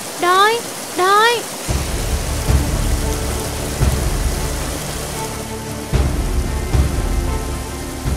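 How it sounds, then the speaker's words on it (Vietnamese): A heavy downpour in an animated fairy tale hisses steadily and loudly, with a couple of low thunder rumbles. Short high-pitched vocal cries come before the rain. "trời mưa to thế này"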